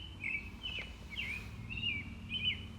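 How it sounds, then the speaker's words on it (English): A bird calls repeatedly in a cedar forest, five short bright chirping phrases at a steady rhythm, moderately near, over a faint low background rumble. "Listen to that bird, he just doesn't give up."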